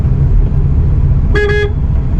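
A car horn gives one short toot at a highway crossing, cutting through the steady rumble of the engine and road noise inside the moving car.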